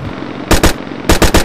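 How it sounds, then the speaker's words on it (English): Movie-style gunfire sound effect: two sharp, loud bursts of shots, a short pause, then three more rapid blasts, each crack broadband and punchy over a low background rumble. "Next I'd add the more prominent sound effects, sounds of gunfire."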